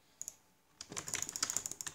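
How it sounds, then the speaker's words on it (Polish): A computer mouse gets clicked rapidly during a Minecraft Sky Wars match, first a couple of isolated light clicks, then a dense, quick burst of sharp plastic taps up close, with no voices. "Ja szybko klikam w tą myszkę."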